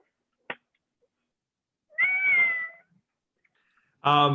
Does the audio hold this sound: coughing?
no